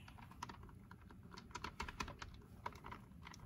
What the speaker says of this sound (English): I start typing with those letters